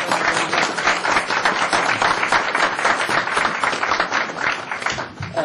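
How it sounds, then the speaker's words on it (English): Dense, sustained clapping from a large crowd at a town council meeting fills the whole stretch, steady and loud without any break. "I'd like to give a round of applause to all of our new employees"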